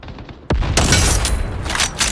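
A grenade blast in the Battle Teams 2 video game, one sharp loud boom followed by a burst of rapid gunfire and scattered shots that ring on for over a second, with no talk.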